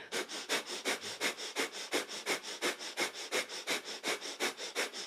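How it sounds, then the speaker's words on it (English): Rapid, rhythmic nasal breathing from a kundalini yoga breath-of-fire exercise, roughly four sharp exhalations per second in an even, continuous pulse, close and alone. "it's a breath of fire here"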